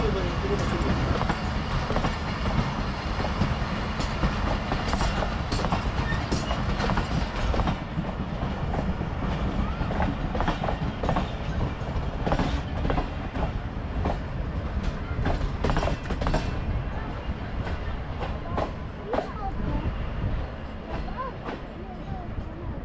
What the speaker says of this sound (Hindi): पाकिस्तान एक्सप्रेस भी रेलवे स्टेशन छोड़ रही है, चकलाला रेलवे स्टेशन।